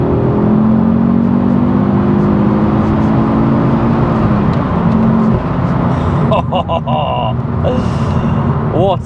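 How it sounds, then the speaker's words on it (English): A Ford Focus RS accelerates hard in third gear from about 30 mph, its engine droning loudly inside the cabin as the pitch climbs steadily, with a voice talking over it and a brief chirping sound near the end. "So we're in third gear, 30 miles an hour. And I'll accelerate out of this into nationals."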